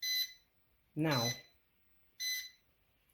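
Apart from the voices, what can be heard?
heat press timer alarm beeping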